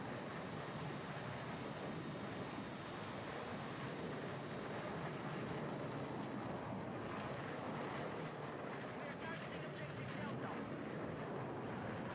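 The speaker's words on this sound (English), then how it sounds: "what you can get away with in terms of hard turns or inverting the plane." Airplane engine in a flight combat video game, a steady dense roar held evenly throughout at moderate level, with talk faintly under it.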